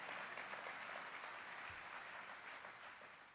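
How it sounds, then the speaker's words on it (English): Audience applause at a Kansas City welcome address by Mayor Sylvester "Sly" James Jr., a steady even wash of clapping from a room full of people that holds for several seconds and tapers slightly at the end, with no talk over it. "It's all right to clap for good stuff."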